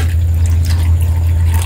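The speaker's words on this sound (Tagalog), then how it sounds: "Lagyan ng tubig." Water filling a cooking pot for boiling pork, a steady continuous close pour with a strong low rumble and no talk.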